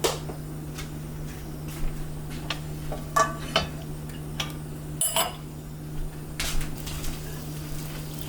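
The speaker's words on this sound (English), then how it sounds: "And now I'm going to wash the frying pan." A frying pan being washed, with scattered clinks and knocks of pans and dishes over a steady low hum, several sharper clanks standing out near the middle.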